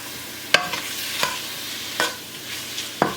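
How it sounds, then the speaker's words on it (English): A spoon scrapes and clinks around a pot of chicken noodle soup, four separate sharp strokes spaced about every three-quarters of a second over a soft simmering background, close and moderately loud. "Stir it together"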